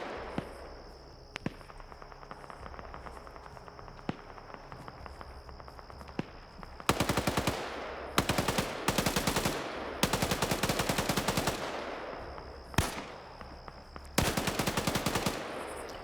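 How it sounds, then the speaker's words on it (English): Bursts of rapid automatic gunfire from a machine gunner in a competitive shooter match, starting with scattered single cracks and faint insect-like background hiss, then several loud sustained volleys with short pauses between them. "Machine gunner immediately blows one of them away."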